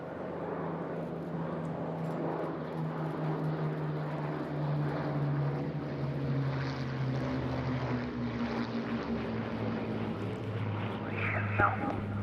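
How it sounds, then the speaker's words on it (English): Twin engines of a Bristol Blenheim bomber drone steadily through a steep climb at a seaside airshow, a sustained distant roar with a low hum, while a commentator's voice runs over it. "It's the Blenheim marvellous steep climb out, leaving the fighters just to hold off for a few seconds"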